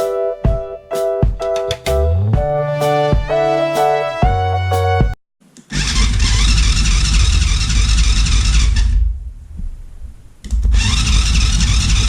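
A Chinese 90cc ATV engine cranks over and catches after a brief pause, then runs loud and steady with a raspy buzz, cuts out for a moment and starts again near the end.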